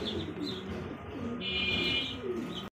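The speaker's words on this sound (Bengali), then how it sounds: "প্রিয় দর্শক দেখতে পাচ্ছি কিন্তু আরো একজোড়া কবুতর, ড্যানিশ কবুতর" Several Danish pigeons coo steadily over a busy background hum, with a brief high chirp mid-way and a short dropout near the end; the cooing stays continuous and fairly close.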